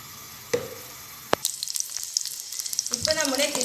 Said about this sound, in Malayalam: ഇനി നമുക്ക് ബിരിയാണിയിലേക്ക് ആവശ്യമായ കിസ്മിസും ഗശനട്ടും വറുത്തെടുക്കണം.